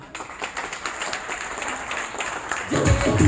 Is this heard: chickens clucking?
no